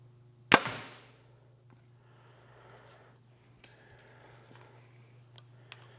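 A single sharp, loud release from a Hoyt Carbon RX9 bow in an indoor shooting range, followed by a quick echoing decay and a few faint ticks and clicks afterward.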